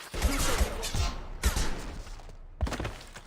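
Gunfire from Mass Effect 2 comes in heavy, booming bursts, several sharp blasts with short gaps between them, loud and close, with no voices over them.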